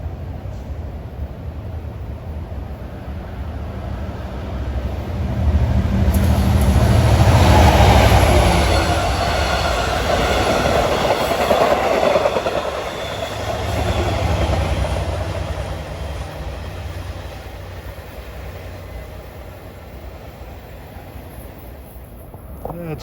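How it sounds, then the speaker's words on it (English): Train 664, a Long Island Rail Road commuter train from Hunters Point Avenue to Port Jefferson, approaches Forest Hills station at rush hour, kicking up dust; a low rumble builds to a loud roaring pass with rail noise, then slowly fades. "Approaching now at 5:57, scooping up a lot of dust is train 664 en route from Hunters Point Avenue to Port Jefferson"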